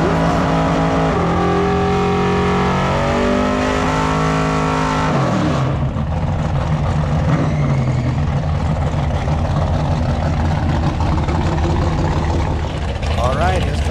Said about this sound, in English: Both racers have done their burnouts coming up